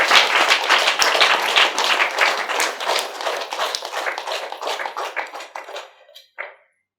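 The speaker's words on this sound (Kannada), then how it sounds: "ಅದಕ್ಕೋಸ್ಕರ ಅವ್ರಿಗೆ ಮತ್ತೊಂದು ಸರ್ತಿ ಚಪ್ಪಾಳೆಯನ್ನು ಕೊಡೋಣ" Audience applause at a meditation gathering and pyramid anniversary program: dense, sustained clapping from a crowd that thins toward the end, followed by a few scattered final claps.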